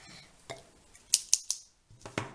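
Metal scissors picked up from a cluttered play table while tidying a toy horse-riding centre, giving a few sharp clinks and a brief scrape, close and clear with no talking.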